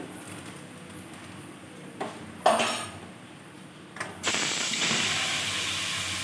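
Metal clinks against a wok a few times, then ghee goes in and a loud steady hissing sizzle starts up and continues.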